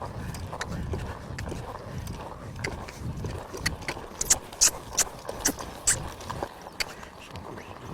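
A young horse's hooves strike the ground outdoors as it is ridden, a few scattered soft thuds and then a run of sharper, evenly spaced clip-clops over steady low outdoor rumble.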